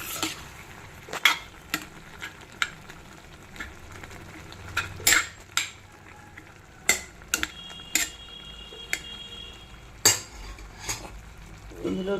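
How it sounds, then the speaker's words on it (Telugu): A spoon scrapes and stirs tomatoes cooking down for tomato pickle in a pan, with sharp metallic clinks at an irregular rhythm over a soft, steady sizzle, close by and with no talking. "టమాటాలని మధ్య మధ్యలో కలుపుకుంటూ ఉండాలండి"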